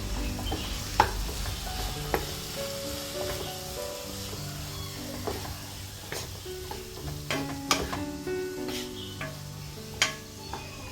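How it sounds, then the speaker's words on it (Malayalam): A spoon stirring fig curry with turmeric, chili and salt in a pan, soft scraping strokes and a few sharper clinks against the pan over a low sizzle, close and fairly quiet with no talk. "മഞ്ഞളും മുളകും ഉപ്പും ആവശ്യത്തിന് ഉപ്പും ആഡ് ചെയ്ത് നന്നായിട്ട് ഇളക്കി എടുക്കുക"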